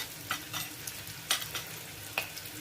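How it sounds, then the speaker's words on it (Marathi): Onion and tomato frying in oil and butter with homemade masala being stirred in for dal fry, heard as a low sizzle close by, broken by a handful of sharp scraping and stirring clicks and no talking. "चांगलं परतून झालेला कांदा टोमॅटो त्याच्यामध्ये मसाला टाकतो आहे, घरी केलेला।"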